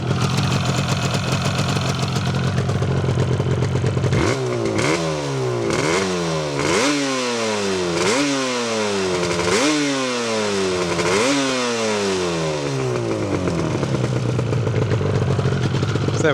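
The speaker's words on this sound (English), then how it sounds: "Starts easily, have a little listen to the engine." A 1981 Yamaha RD350LC two-stroke motorcycle engine idles loudly up close, then is revved in a series of about eight sharp, rising blips before settling back to a steady, rattly idle.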